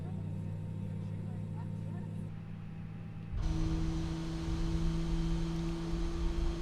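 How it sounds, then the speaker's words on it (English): An aircraft engine spools up in Microsoft Flight Simulator, a steady hum that jumps abruptly into a louder, sustained whine and roar midway through, with no talking over it. "Lovely engine startup sound."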